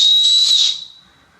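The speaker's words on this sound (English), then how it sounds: "It has a fairly loud whistle." The built-in whistle on a Survival Spark fire starter gives a single loud, piercing, steady tone at close range that holds for under a second and then fades quickly.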